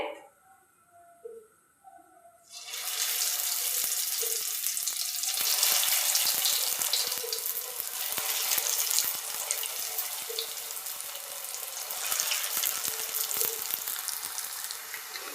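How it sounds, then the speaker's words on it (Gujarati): Sev rolls drop one at a time into hot oil and fry, starting with a few quiet kitchen knocks before a loud, continuous sizzle takes over and holds steady, close and without speech. "તેલ આવી ગયું છે. હવે આપણે તળી લેશું એક એક કરીને."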